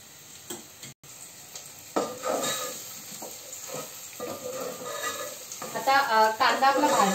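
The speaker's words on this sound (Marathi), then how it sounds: "आता कांदा आपला भाजला आहे" Onions fry in oil in a pan for anda biryani, a soft sizzle under repeated scraping stirs of a spoon that grow louder and busier toward the end, with a voice speaking softly over the cooking.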